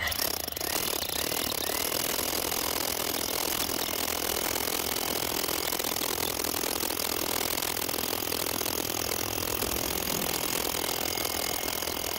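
A power drill grinds steadily and loudly into hard ground, boring a hole to set a bronze survey marker, a continuous harsh rattling roar with no pauses or speech.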